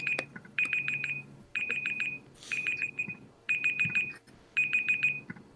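A timer alarm rings in repeated bursts of rapid high beeps, five clusters with short gaps between them, loud and close with no talking.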